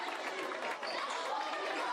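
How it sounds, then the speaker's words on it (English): Basketball home crowd at a Boise City homecoming game cheering after a foul, a loud dense roar of many voices that stays steady for a couple of seconds. "And the crowd is going nuts."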